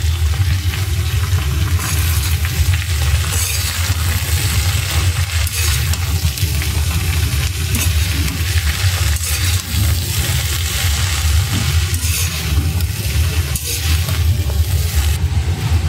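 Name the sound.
frying spice masala with greens in a pan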